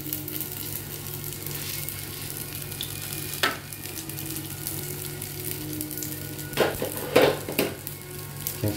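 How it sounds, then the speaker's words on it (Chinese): Food fries in a pan, a continuous moderate sizzle with a few sharp clinks and scrapes of a utensil against the pan toward the end. "这样子放了之后你就让它煎咯。"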